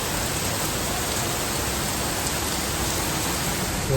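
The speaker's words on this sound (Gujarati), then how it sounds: "વરસાદ જો" Heavy rain pours steadily onto a flooded road, a dense, even hiss at close range with no pauses and no voices.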